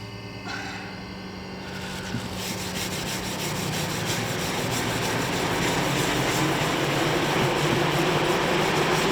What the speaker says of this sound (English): So I've sanded the stock down, I've not gone mad.